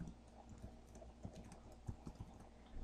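Someone types an email address on a computer keyboard, producing a quiet, irregular run of close key taps with small pauses between bursts.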